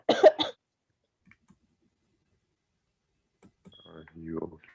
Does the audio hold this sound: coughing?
yes